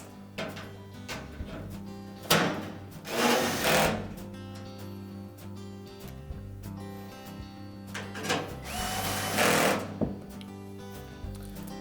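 A power driver drives screws into the panel of a Frigidaire washer during a drive belt repair. Two main whirring bursts, each a second or so long, stand out against quieter clicks and handling noise, all close by.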